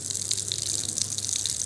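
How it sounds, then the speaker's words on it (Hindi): Tap water runs in a steady, loud, gushing stream, splashing continuously while a bird cage is washed. "अभी जैसे जब मैं टूटी चलाती हूँ इनकी"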